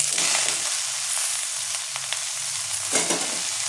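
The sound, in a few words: cabbage frying in a pan with fish head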